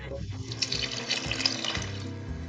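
Water pours into a pot of boiled lentils for dal makhani, making a steady close splashing stream with a few clunks as it settles.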